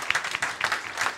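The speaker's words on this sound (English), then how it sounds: "round of applause to all of our candidates for showing up tonight" An audience at a transport forum in Hastings claps for the candidates, a short burst of moderately loud, uneven applause from a modest crowd, with individual claps standing out.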